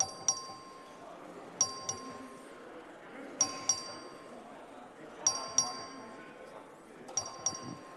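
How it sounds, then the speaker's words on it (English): A voting bell rung by the clerk in the Texas House chamber sounds in four repeated pairs of bright, ringing dings, clear above a quiet, murmuring room. "The clerk will ring the bell."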